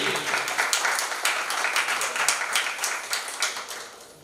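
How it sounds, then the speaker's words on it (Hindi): Applause for Birla ji at a regional parent meeting, a steady patter of many hands clapping at moderate distance that holds for a few seconds before easing off. "जोरदार तालियां बिरला जी के लिए"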